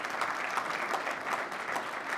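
Steady applause from an audience at an association's general assembly debate, dense clapping with no break, fairly even and moderately distant throughout.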